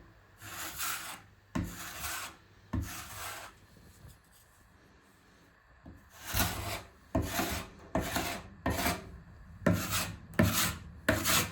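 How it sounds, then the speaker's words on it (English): Excess drywall filler scraped onto a scraper while patching a deep hole in plasterboard: close, rasping strokes in quick rhythmic bursts, a quieter pause in the middle, then a faster run of strokes. "I'm just scraping the excess filler onto the scraper."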